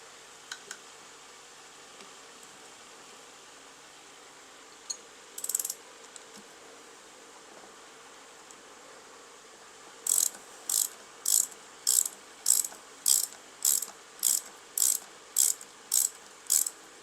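A ratchet turns bolts by hand on a Mercedes-Benz W211 during driveshaft work. After a few scattered clicks and clinks, the close metallic ratcheting comes in about ten short evenly spaced bursts, with no talk.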